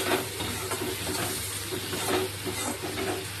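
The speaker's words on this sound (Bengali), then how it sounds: "পাতি দিয়ে কিন্তু ভালো করে নেড়ে চেড়ে কষিয়ে নিচ্ছি" Snails (gugli) being stirred and fried in a pan, a steady loud sizzle with scraping stir strokes running throughout, no voices.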